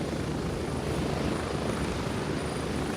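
Close, loud helicopter rotor wash and engine roar from the tactical shooter Gray Zone Warfare, continuous and unchanging with no talk over it.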